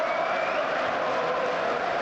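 A dense, steady roar of stadium applause and crowd noise as Newcastle midfielder Joe Willock is substituted, at Manchester United versus Newcastle United in the Carabao Cup; the broad wash holds at an even level throughout.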